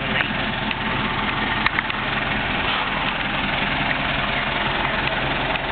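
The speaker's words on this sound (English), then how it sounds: "I wouldn't trade this manure spreader for any other manure spreader." An old manure spreader's engine running steadily nearby, a continuous rough low idle with constant vibration and no talking.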